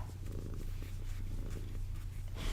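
A cat purrs on a lap, a close, steady low rumble pulsing continuously throughout with no talking over it.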